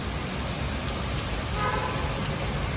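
Steady, dense monsoon rain falls continuously outside a food stall, a broad hiss of drops on surfaces with no voices.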